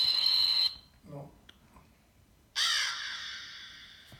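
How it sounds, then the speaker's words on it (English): Raven call sound effect: two harsh, raspy caws, the second longer and trailing off, with a brief low voice murmuring in the quiet gap between them. "That's Raven. A raven."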